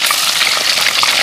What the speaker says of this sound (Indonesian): Ini lagi proses goreng, Pak.